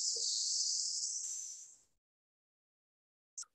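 A person exhales a long, steady hiss through the teeth, close and clear, imitating a serpent, followed by silence and a brief hiss at the end.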